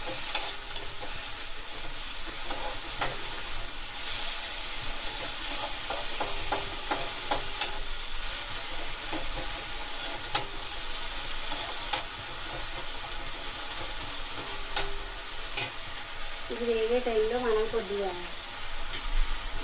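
About half a spoon of cumin seeds frying in a pan gives a steady, fine sizzle with scattered light clicks and scrapes of stirring, while a voice speaks briefly near the end.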